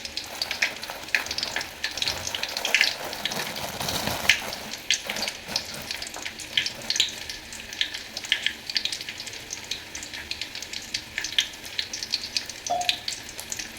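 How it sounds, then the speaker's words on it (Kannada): Garlic and mustard seeds frying in hot oil give a steady, crackling sizzle with scattered sharp pops and spatters. It is close and even throughout, with no talk. "ಬೆಳ್ಳುಳ್ಳಿ, ಸಾಸಿವೆ ಒಳಗೆ ನಾನು ತಗೊಂಡು ಹಾಕ್ತೇನೆ"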